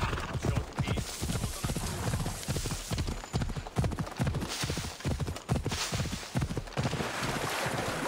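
Horse hooves clip-clop in Assassin's Creed Odyssey, a steady close rhythmic trot of sharp hoof strikes over a windy outdoor ambience, with no voices.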